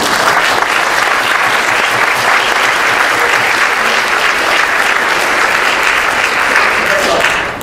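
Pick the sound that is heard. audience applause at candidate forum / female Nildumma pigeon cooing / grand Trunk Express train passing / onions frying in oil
audience applause at candidate forum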